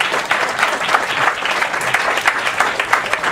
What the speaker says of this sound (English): Everybody give Melba a big round of applause.